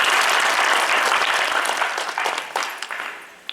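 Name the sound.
audience applause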